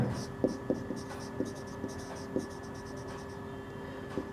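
A pen scratches across paper as a formal letter is written by hand, short strokes in an uneven rhythm, close and faint over a low steady hum.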